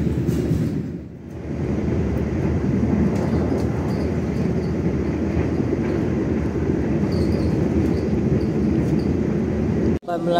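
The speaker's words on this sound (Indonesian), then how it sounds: "lewat 1 kereta api Tegal Bahari tiba di stasiun Jati Barang" A Tegal Bahari passenger train rolls steadily past near Jatibarang station, a loud continuous rumble of wheels and carriages that stays close throughout and cuts off abruptly at the end.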